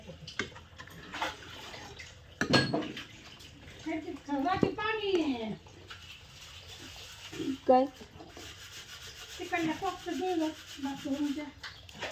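Dishes are scrubbed and rinsed by hand at home, with rubbing and splashing water running through the scene while someone talks over the washing at several points.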